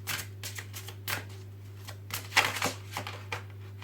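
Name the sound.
oracle cards being shuffled and drawn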